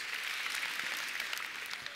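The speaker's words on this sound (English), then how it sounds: "A big hand clap of God bless you and thank you to Galen Davis." A church congregation applauds for a speaker, a dense, steady wash of many hands clapping at once that holds evenly throughout, heard without talk.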